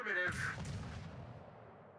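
Warship guns firing in World of Warships: a single loud, heavy artillery blast with a sharp onset, followed by a long rumbling tail that slowly fades over two seconds.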